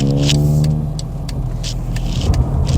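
A Mercedes ML320 SUV drives on the road with a steady, loud engine hum and road rumble from inside the cabin, broken by a few short ticks and thumps.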